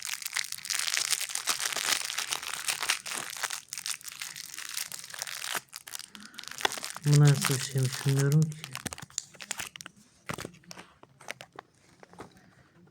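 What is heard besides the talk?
crinkling plastic Toybox toy packet being opened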